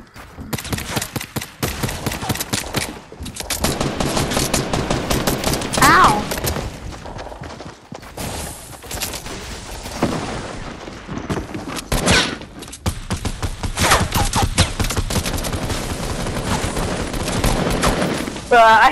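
Video game gunfire in bursts of rapid shots and fusillades with thuds, loud and near, broken by brief pauses, while players talk excitedly over it.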